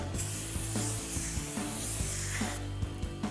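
A brake rotor from a 2018-2020 Ford F-150 6-lug PowerStop kit is cleaned on the hub, with a hiss of spray and rhythmic rubbing strokes that repeat close by at a steady pace.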